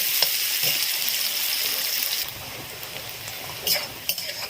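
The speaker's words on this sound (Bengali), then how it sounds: "পেঁয়াজটা দিয়ে আমি হালকা ব্রাউন করে তারপর আমি আলু দেব।" Onions sizzle in a pan while being browned for a snakehead fish curry. The frying hiss is strong at first and softer later, with scattered light clinks from stirring.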